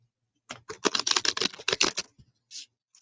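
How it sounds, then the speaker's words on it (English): A quick, rapid flurry of crisp ticking clicks as playing cards are riffle shuffled, then a couple of softer taps at the end; close and fairly quiet. "And then I'll riffle shuffle at least 3 times."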